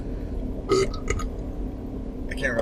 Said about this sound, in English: I can't remember the last time I burped.